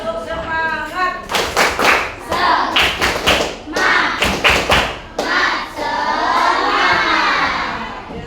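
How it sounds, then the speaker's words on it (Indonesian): A sixth-grade class performs a rhythmic clapping chant, sharp group claps and thumps in patterned bursts mixed with children's shouted chanting, ending in a sustained sung or shouted phrase. "Ya, tepuk semangat dulu deh. Tepuk semangat."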